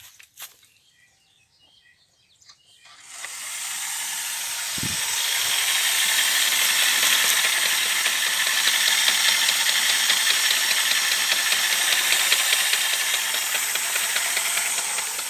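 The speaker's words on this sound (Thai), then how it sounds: "นี่เลยเปิดน้ำเลยครับ โดยปั๊มโซลาเซลล์" After a quiet start with a few clicks and knocks, a solar-powered water pump for irrigating a chili field starts up, and a steady broadband hiss and rush of flowing water hold loud and continuous for the rest of the stretch.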